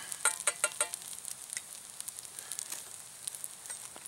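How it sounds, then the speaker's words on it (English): Bacon and eggs sizzle in a hot pan, a close, steady frying hiss with quick crackling pops, most frequent at the start. "It's still sizzling there."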